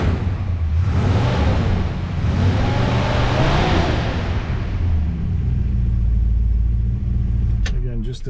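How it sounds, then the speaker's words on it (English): A 1959 Plymouth Sport Fury engine revs up close, rising and falling in a couple of deep swells before settling back to a rumbling idle. "Go ahead and rev it up a little bit so you can hear it."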